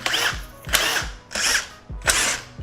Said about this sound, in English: Now on both sides, we're gonna remove this bolt and that bolt.